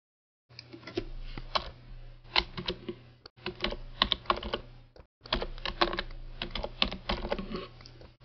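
Computer keyboard typing while entering gift certificate amounts on an ecommerce site: rapid clicky keystrokes in three bursts separated by short pauses, close and clear, with no voice.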